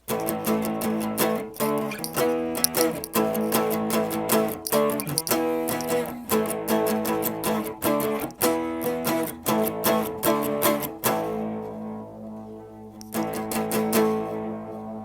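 Electric guitar power chords strummed in a steady rhythm, sliding a whole step between two positions up to E, loud and near, ending with a few ringing chords and a short pause.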